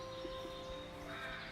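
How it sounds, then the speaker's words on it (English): A raven in Minecraft caws twice in quick succession, faint and brief over a low steady game-ambience hum. "Look at this raven."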